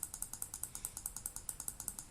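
Computer mouse clicked rapidly and steadily, about a dozen crisp, evenly spaced clicks at close range while adjusting a value in a Micro:bit circuit simulator, with no talking.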